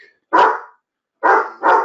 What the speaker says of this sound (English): You can tell it's the afternoon and that my neighbors are letting their dogs out, can't you?